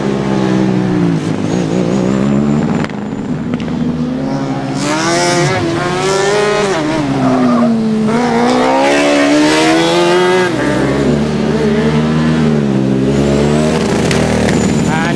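Formula Student race car on an endurance run, engine note rising and falling steadily without gear changes, loud and continuous throughout, with a commentator's voice partly over it.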